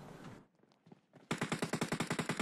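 Gunfire in the battle royale game PUBG Mobile: after some faint scattered noise, a loud automatic weapon fires a steady burst of about a dozen rapid, evenly spaced shots close by.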